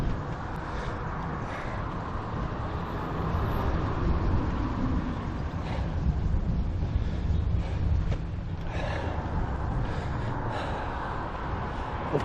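Steady wind buffeting and rushing over a microphone on a rainy road ride through Belgium, a constant broadband roar swelling slightly in the middle, with no talking.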